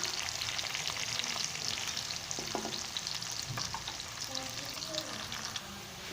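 Sliced onions sizzling and frying in oil in a pan as they turn golden, a steady close crackle with occasional stirring clinks, no talk over it.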